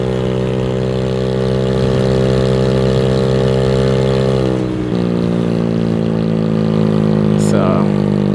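Motorcycle engine fitted with a 150 kit, loud and close, droning steadily at idle with a strong harmonic hum that shifts pitch midway as the revs settle, with no talking over it.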